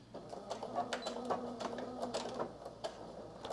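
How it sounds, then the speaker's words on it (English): A sewing machine backstitches a seam with regular-length stitches, giving a quiet, fast, steady mechanical whir and rattle throughout with no talk. "I'm going to backstitch."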